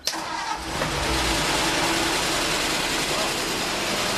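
An old truck's engine starting from cold: a brief crank, then the engine catches and settles into a loud, steady, rough idle, close to the microphone.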